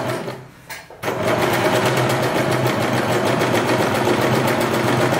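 A Usha Janome Wonder Stitch electric sewing machine starts after a brief pause and runs steadily, its fast needle stitching a loud, continuous whirring rattle.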